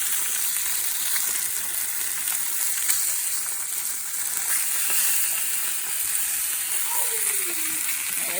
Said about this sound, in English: You're looking for that skin to shrivel up in the oil.